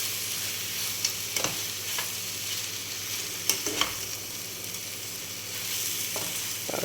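Quail gravy base with onions sautéing in a hot pan, a steady low sizzle with occasional stirring clicks and scrapes, close and fairly quiet, no voices.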